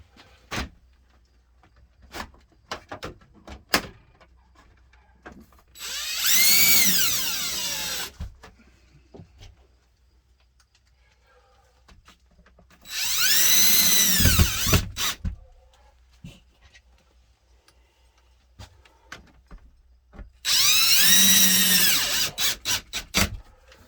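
A power drill drives screws into a plastic RV roof exhaust fan in three separate bursts of whirring motor, each lasting a couple of seconds, with quiet handling clicks and knocks between them, close up.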